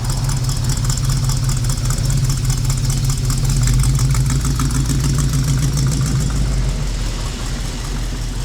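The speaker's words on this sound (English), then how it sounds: "Listen to this engine, man." A Chevrolet Chevelle Malibu's big engine idles loudly and steadily nearby, a deep continuous rumble with a throbbing pulse that holds throughout.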